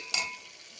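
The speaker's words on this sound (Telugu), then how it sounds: "కొంచెం సాల్ట్ వేస్తే ఉల్లిపాయలు అనేవి త్వరగా వేగుతాయి" Onions frying in a pan with salt, a short burst of sizzle with a stirring scrape near the start that settles into a steady, low hiss, heard close and alone.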